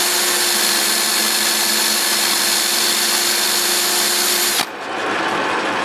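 A 19.2 volt Craftsman cordless drill at full throttle grinding valves on a 1988 Jeep XJ, a loud steady whir for over four seconds that abruptly drops into a lower, rougher spin-down, with no talking.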